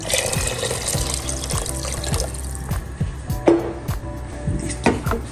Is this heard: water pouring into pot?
yes